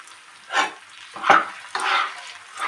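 Spice paste sizzles in a pan while being sautéed for a Bengali green potato dish. Several distinct bursts of frying hiss and scraping stirs come and go close up, with no talking.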